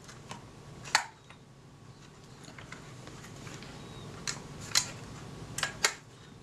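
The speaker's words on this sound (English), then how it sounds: "The shutter does function, but on the B setting, which is set with this lever at the side here" The shutter of an APM box camera is worked on the B setting, sticking and reluctant to close, giving sparse sharp mechanical clicks and snaps close up, with a few in a quick cluster near the end.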